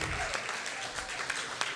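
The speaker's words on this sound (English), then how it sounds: "Yeah, you can give them an applause." Brief applause from an audience at a talk event, a steady wash of clapping from start to finish with no voices standing out.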